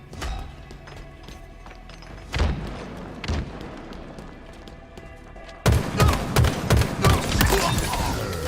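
Heavy weapon shots in a Halo Infinite multiplayer match: scattered thuds early, then a rapid, evenly spaced string of loud shots in the second half over game ambience.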